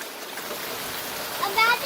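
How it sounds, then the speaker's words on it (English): Heavy rain pours outdoors on a rainy day, a steady broadband wash of water with a few brighter splashes near the end, continuous and fairly close. "It's raining pretty hard."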